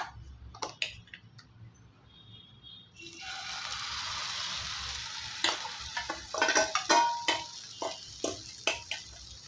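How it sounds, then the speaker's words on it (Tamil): Noodle omelette batter hits a hot greased pan with a sudden, steady sizzle that holds for several seconds, close and fairly loud, with light utensil taps and clicks around it. "இப்போ நம்ம ரெடி பண்ண இந்த ஆம்லேட் இதை ஊற்றிடலாம்."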